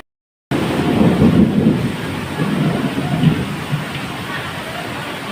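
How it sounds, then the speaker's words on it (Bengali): Thunder rumbles through steady rain during a rainstorm heard from a home balcony, a broad low roar that swells around the middle and continues under constant rainfall, loud and close throughout. "মেঘে কি গুরুম গুরুম করে ডাকছে"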